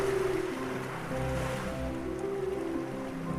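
Ocean surf washes along the shoreline at Cathedral Rocks on Rottnest Island, a continuous low rushing roar of waves with no breaks and no voices.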